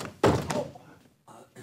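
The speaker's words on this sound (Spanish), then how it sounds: "Me tomé la atribución de cerrar la puerta con llave." A door thuds shut and is locked with a key, a heavy close slam followed by quieter clicks and rattles of the lock in an indoor home setting.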